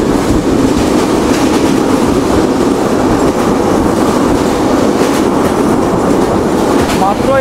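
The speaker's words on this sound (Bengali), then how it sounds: "আমরা রাজশাহী ছাড়তে ছাড়তেই আমাদের ট্রেনের গতি 80 কিলোমিটারের উপরে উঠে গেছে।" Madhumati Express LHB coaches run at over 80 km/h behind a 63-series locomotive leaving Rajshahi, a loud, constant rumble with rapid wheel clickety-clack and faint squeals, heard from inside the train.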